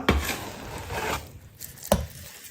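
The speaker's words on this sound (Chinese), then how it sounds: "这是2把手的切腿肉，剁成肉末。" A cleaver chops pork leg meat into mince on a wooden board: two heavy, sharp thuds about two seconds apart with softer chopping between them, close and clear.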